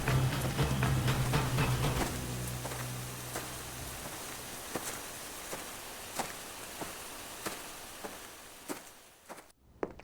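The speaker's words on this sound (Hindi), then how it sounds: "जोरदार बारिश होने लगी।" Heavy storm rain pours in a steady loud hiss, then thins into scattered separate drips and taps against a surface near an old palace doorway.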